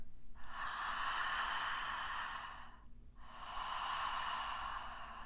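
A relaxed, deep breath drawn in and out through the mouth, heard close and alone as two long, smooth airy breaths separated by a brief pause.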